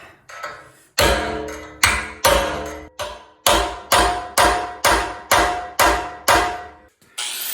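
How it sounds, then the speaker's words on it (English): Hammer blows on a chisel knocking the head off a partly cut bolt on a cultipacker transport wheel, about a dozen loud, ringing metallic strikes in a steady rhythm, each decaying before the next, close up with no talk. "Now I'm going to chisel the head like that."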